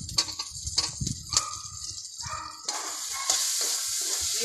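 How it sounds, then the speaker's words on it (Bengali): Fried potatoes tumbling into a pan of spicy snail curry, then stirred through: close scraping and clattering strokes over a soft, steady sizzle, with no talking. "এবারে আমি ভেজে রাখা আলুগুলো দিয়ে দেবো।"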